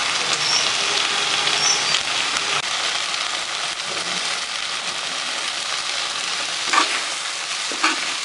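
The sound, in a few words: stirring and roasting stuffed okra in a pan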